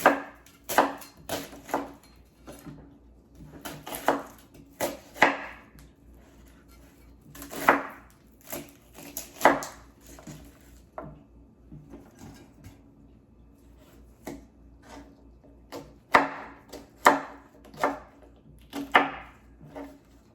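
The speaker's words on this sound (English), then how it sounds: "I'll go ahead and chop up my onion." A knife chops an onion on a board for fire cider preparation, with irregular sharp thuds coming in quick clusters and short pauses, close and fairly loud.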